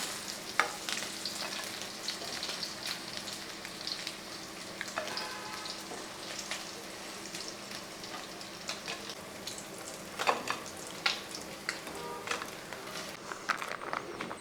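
Dried fish frying in oil, a continuous dense crackle and spit throughout, close and steady, with occasional louder pops and clinks as pieces are moved in the pan.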